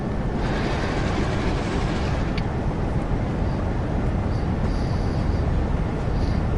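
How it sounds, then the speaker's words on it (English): A train pulling away in the Train Sim World simulator on the Northern Trans Pennine route, with a steady, loud rumble and broad noise of motor and rails that holds evenly throughout, with no talk. "Increase the throttle to start moving."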